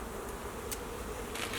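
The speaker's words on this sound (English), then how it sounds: "you have plenty of bees now" Honey bees buzz around a flow hive in a steady, dense drone, close and continuous, with a few individual bees whirring past the microphone.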